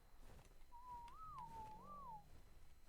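A character in the video game ARK whistling a command, a faint single-toned whistle that rises and falls in a short wavering phrase, alone over quiet background ambience.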